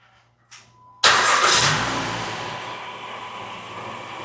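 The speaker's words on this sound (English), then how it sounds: "And the car starter works." A 2015 Acura MDX started by remote starter: a faint click, then the engine cranks and catches loudly at about one second and settles into a steady, close idle.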